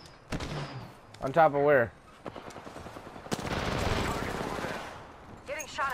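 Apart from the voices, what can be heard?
gunfire in a video game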